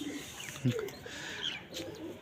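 Pigeons in a keeper's loft in cold winter weather give soft, low coos, a couple of short throaty calls over quiet background ambience.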